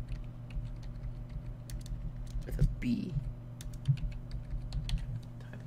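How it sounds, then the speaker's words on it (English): Computer keyboard typing during a Minecraft session: a quick run of light clicking keystrokes, close and soft, under a steady hum with a brief spoken remark. "Typing is terrible."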